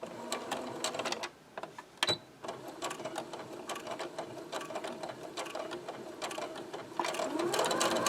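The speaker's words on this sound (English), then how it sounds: "to the sewing machine. I'm going to top stitch this along here" A sewing machine top-stitches fabric for a koozie, its rapid mechanical stitching chatter continuing throughout, briefly slowing then picking back up.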